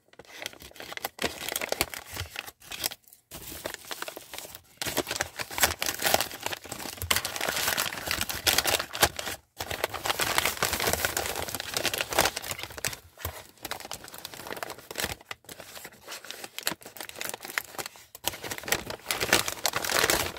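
Advent calendar gift wrapping stuck down with plenty of tape is torn and crumpled open, a close, dense run of crinkling paper and ripping noises with short pauses between pulls.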